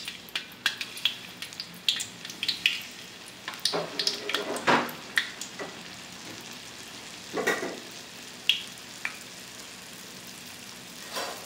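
Corndogs deep-fry in hot oil with a soft continuous bubbling hiss, punctuated by sharp crackles and pops that cluster early and then thin out, heard close with no voices.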